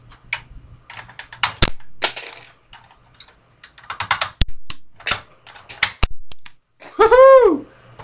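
A brand-new toy rocket launcher snaps and clicks through a run of sharp mechanical actions, then fires a rocket out with a brief whooshing burst near the end, all close by with no talking.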